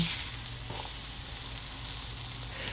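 Pancakes with raisins and walnuts sizzle steadily in a pan over medium heat, a continuous close frying hiss with no talking.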